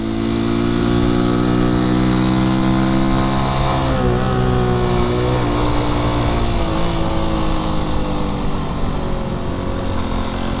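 A 1973 Honda C90 motorcycle engine hums steadily and loudly while riding, with a small drop and wavering in pitch midway as the throttle eases, then a continuous drone to the end.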